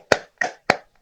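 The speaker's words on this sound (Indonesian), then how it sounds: "Tepuk tangan untuk kelompok 3." Four sharp hand claps spaced evenly about a third of a second apart, close and fairly loud, as a class applauds a student group.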